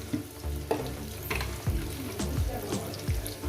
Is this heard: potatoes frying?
yes